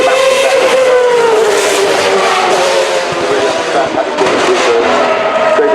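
An aircraft-engined racing car drives past at the Festival of Speed, a loud, wide engine roar that holds steady with a slowly falling pitch, under a commentator talking throughout.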